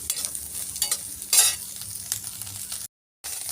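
Cauliflower pieces fry in oil in a pan while cooking vegetarian dalia khichuri. A steady soft sizzle runs throughout, with a louder stirring scrape in the middle and a brief silent gap near the end.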